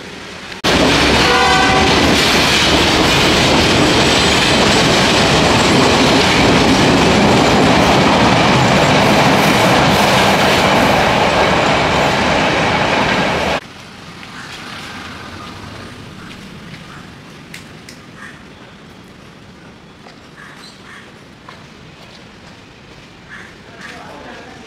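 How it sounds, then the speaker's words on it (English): Sri Lankan local train passing close by, a loud rush of wheels with clickety-clack and a horn, which cuts off abruptly and leaves quieter station ambience with some voices. "there is two type of train, slow train and fast train"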